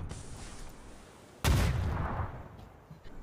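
A grenade explosion in PUBG on PC, a sudden loud blast with a rumbling decay that fades over a couple of seconds, standing out against quieter game ambience.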